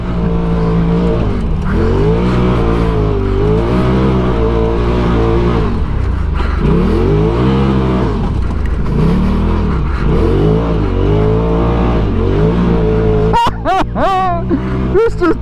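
A 180 hp Polaris RZR Turbo R engine revs repeatedly while drifting on dirt, rising and falling in loud swells, with a sharp, broken burst of revving near the end and voices shouting over it.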